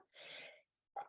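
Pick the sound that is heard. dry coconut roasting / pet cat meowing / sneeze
sneeze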